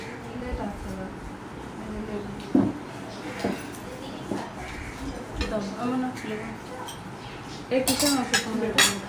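Plates and dishes clink irregularly at close range in a home kitchen, several sharp knocks and rattles scattered among household noise, with people talking throughout.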